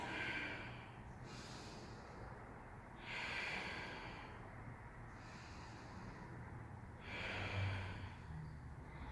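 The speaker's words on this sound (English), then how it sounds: "Making a sound with your breath." Slow, audible breaths drawn in and pushed out through the nose during a held yoga pose, three long exhalation swells at steady intervals, close and soft with no talking.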